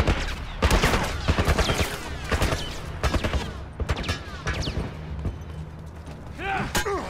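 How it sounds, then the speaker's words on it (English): A military turret in The Last of Us fires loud, rapid shots in uneven bursts, with mechanical clanks and creaks between them and a brief voice near the end. "Some kind of military turret"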